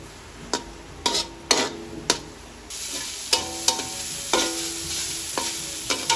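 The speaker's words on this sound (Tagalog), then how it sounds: "para mas malasa yung aking igigisa muna" Pork sautéing in a pan, a steady sizzle broken by sharp clinks and scrapes of a spatula against the pan, louder spells of frying after a few seconds, with no voices.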